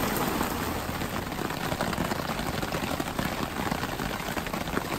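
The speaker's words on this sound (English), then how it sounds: "We're in a downpour now. Shelter's holding strong." Heavy rain pours onto a shelter in the Cabinet Mountains Wilderness near Wanless Lake, a dense, steady roar of drops drumming close by without pause, with no talking.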